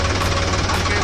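Sonalika DI 50 DLX tractor engine running steadily under load with a laser leveler, a loud, dense, continuous diesel drone with low knocking throb and broadband rattle, close up.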